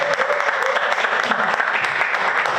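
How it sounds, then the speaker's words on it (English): A community event audience applauds a councilman, a loud, continuous round of clapping filling the short moment with faint voices mixed in. "Let's give him a round of applause."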